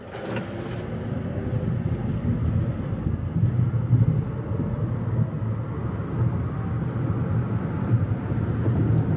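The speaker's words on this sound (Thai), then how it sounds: "การทดสอบ0ถึงร้อยและ 80ถึงรสิบของ BYD Atto 3 ในโหมด Eco กันนะครับ" A BYD Atto 3 electric car accelerating from 0 to 100 km/h in Eco mode, heard from inside the cabin as a low rumble of road and wind noise that swells steadily throughout, with no talking.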